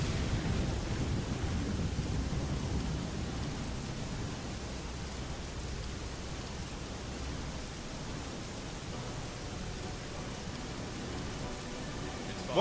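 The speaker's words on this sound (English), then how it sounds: "I hope the soothing sound of rain makes up for the harsh noise of fireworks." Steady rain falls with a low rolling rumble of thunder in the background, a continuous soft hiss throughout.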